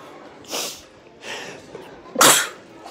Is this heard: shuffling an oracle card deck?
no